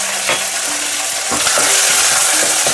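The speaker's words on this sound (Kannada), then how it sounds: "ಇವಾಗ ಒಂದು ರೌಂಡು ಚೆನ್ನಾಗಿ ಮಿಕ್ಸ್ ಮಾಡ್ಕೊತಾ ಇದ್ದಾರೆ" A tempering of green chilies and curry leaves sizzles in a hot pan while being stirred, a loud continuous frying hiss broken by repeated scraping strokes of the spoon.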